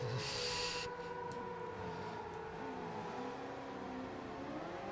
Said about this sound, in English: Why does the engine note of the cars around the track in the headphones sound like an air raid siren?